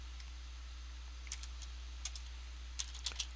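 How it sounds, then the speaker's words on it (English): Light typing on a computer keyboard, a few soft clustered keystrokes, faint and close over a low steady hum, with no talk. "I'm going to type in"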